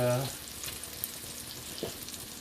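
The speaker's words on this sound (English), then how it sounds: "Got the burgers cooking." Burgers fry in veggie oil in a Lodge enameled cast iron skillet, a steady broadband sizzle holding close and even, with a brief voice at the start and a couple of faint clicks.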